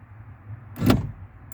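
Central locking on an Opel Astra F with a keyless entry system clunks shut in one short, sharp actuator thump, close and distinct over a faint low hum.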